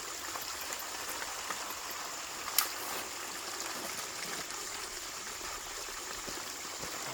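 Water runs steadily through a Flour Gold Wizard micro gold cleanup sluice, giving a faint, continuous rushing trickle with one brief knock partway through and no voices.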